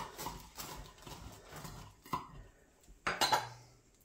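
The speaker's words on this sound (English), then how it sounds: "So I'm going to cut it in half now so we can have a look at it." A knife slices a corned beef pasty in half on a plate, giving soft crumbly scraping under low room noise, then a few sharp clinks of metal on crockery near the end.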